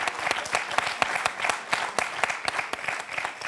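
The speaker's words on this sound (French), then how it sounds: "On vous applaudit tous les deux" A studio audience on a French TV quiz show breaks into steady, dense applause, many hands clapping in a sustained, fairly loud burst.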